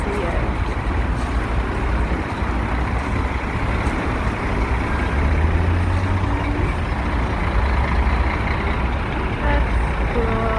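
Truck traffic rolling along a street in Gangnam, Seoul, as a steady, continuous low rumble of passing heavy vehicles with a dense background roar and no clear breaks.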